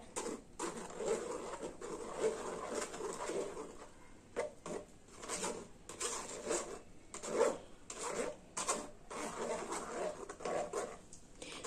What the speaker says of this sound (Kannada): ಹೀಗೆ ನಾವು ರುಬ್ಬಿ ಇಟ್ಕೊಂಡಂತಹ ಎಲ್ಲ ಟೊಮೊಟೊ ಪ್ಯೂರಿಯನ್ನ ಈ ರೀತಿ ನಾವು ಸೋಸ್ಕೊಳ್ಬೇಕಾಗತ್ತೆ